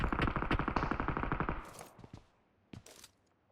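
In PUBG Mobile, a rapid automatic burst from a nearby rifle fires a dozen or so quick shots, followed by a few scattered single shots that trail off with echo.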